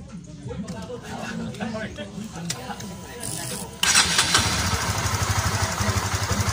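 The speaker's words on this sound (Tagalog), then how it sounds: "i-start natin yung motor" Someone talks as a Honda GTR 150 motorcycle engine cranks and catches midway, settling into a loud, steady idle.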